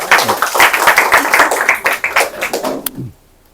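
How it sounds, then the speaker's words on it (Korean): Close, loud clapping from a lecture audience welcoming a chemical engineering professor, individual hand claps distinct and rhythmic before stopping abruptly, leaving near silence. "큰 박수로 환영해 주시기 바랍니다"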